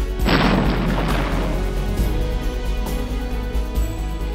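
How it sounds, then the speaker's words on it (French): Detonation of recovered explosives and munitions during a demining disposal operation, a heavy deep boom followed by a long rumbling roar that slowly fades, loud and sustained with no voices. "Plus de 120 tonnes d'explosifs et de munitions ont été récupérées et détruites."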